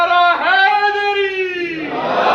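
At a Mehfil-e-Milad religious gathering in Peshawar, a single voice holds a long, loud chanted call, then a crowd's answering roar rises near the end.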